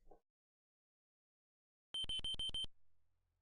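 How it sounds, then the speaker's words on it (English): In the video game Space Quest 2, a wristwatch gives a rapid electronic alarm beep of about six short pulses in quick succession. It comes after near silence and ends with a low fading hum. "A beep emanates from your wristwatch."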